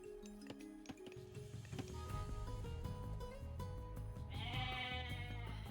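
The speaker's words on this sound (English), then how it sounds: "Stinking goat." A goat bleats in the real-time strategy game Age of Mythology, set against busy in-game music and battle effects, with a brief bleat call standing out near the start of the mix.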